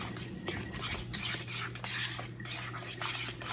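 Mashed bananas beaten in a bowl for homemade banana bread, heard as quick, close, repeated wet scraping strokes of a utensil against the bowl in a steady rhythm, with no voices.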